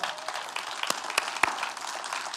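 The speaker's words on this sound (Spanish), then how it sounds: "Dele un aplauso fuerte al Señor." A church congregation claps steadily for the Lord during an afternoon service, a dense, even wash of applause with a few sharper individual claps standing out, moderately loud with no talking over it.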